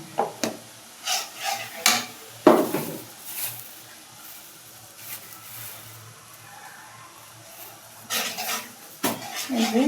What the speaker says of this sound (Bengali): এগুলো এখন কষানো হোক